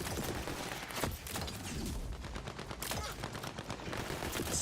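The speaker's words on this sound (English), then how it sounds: "It's like sounds like a Tommy gun." A Tommy gun fires in Tiny Tina's Wonderlands, rapid bursts of loud, close automatic gunfire rattling almost continuously with mechanical clatter, and no talking.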